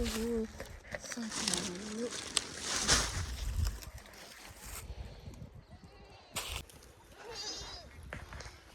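A goat bleats several times in wavering cries, then a person talks nearby over rustling outdoor background noise.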